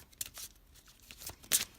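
A deck of Flowers oracle cards is side shuffled close up, giving soft, quiet papery riffling and brushing bursts in a short, irregular rhythm.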